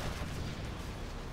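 A quad cannon fires in a video game, a brief, continuous roar of rapid blasts that fills the whole moment with heavy, rumbling noise.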